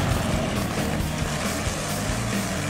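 Monster trucks drive past in a continuous heavy engine drone, broadband and steady with a deep rumbling low end and no voices.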